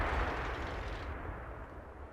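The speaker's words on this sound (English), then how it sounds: "A bit of speculative fire from me there." A self-propelled gun, a StuG IV, fires in World of Tanks: one heavy, booming report that rumbles and fades away over about two seconds.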